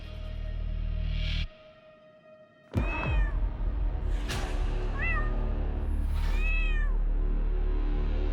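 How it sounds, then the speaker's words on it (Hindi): Pet cat giving several clear, close meows with rising and falling pitch, separated by short pauses, over faint room background. "बहुत प्यारी बिल्ली है।"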